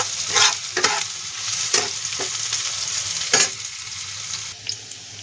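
Onion fries in a wok, its close sizzle broken by several scraping stirs of a spatula at irregular intervals, fading somewhat toward the end.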